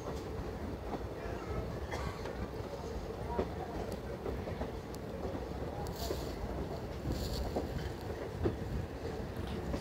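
DEMU train 06974 pulls into Nakodar Junction, its faint, distant rumble running continuously with occasional light clanks and squeals, while a voice talks quietly over it.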